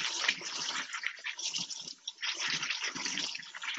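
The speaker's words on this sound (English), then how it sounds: "I'm rinsing mine out now, trying to get the last of the goop off." Running water rinses pumpkin seeds under a tap, a steady close splashing stream that swells and dips with a brief lull in the middle, heard alone.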